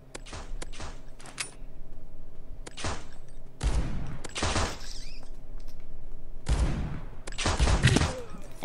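Sniper gunfire in a video game match pitting a Dragunov against an AWP: several sharp, loud single shots spaced irregularly, some followed by quick rattling bursts, with short silences between.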